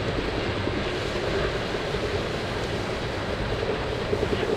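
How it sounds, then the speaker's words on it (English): Cold press oil machine grinding groundnuts while water is slowly poured in, giving a steady, dense rushing and churning roar that stays constant and fairly close throughout, with no talk. "So slowly we just need to pour the water."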